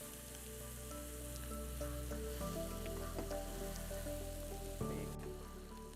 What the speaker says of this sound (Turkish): Güzelce soteliyoruz.